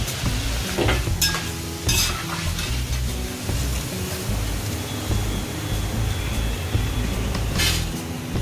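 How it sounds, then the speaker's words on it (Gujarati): Continuous crackling sizzle of puffed rice chevdo ingredients deep frying in hot oil in batches, with occasional stirring scrapes and clinks of a utensil against the pan. "થોડા થોડા કરીને 2 થી 3 બેચમાં આને તળી લઈશું સારી રીતે."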